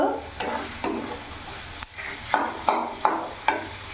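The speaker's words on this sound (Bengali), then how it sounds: "আমি ভালো করে চিকেনটা কষিয়ে নিয়েছি খুব সুন্দরভাবে" Chicken being stir-fried dhaba-style in a pan, sizzling under repeated scraping strokes of a spatula; the strokes quicken into a regular rhythm of sharp clacks toward the end, close and clear with no voices.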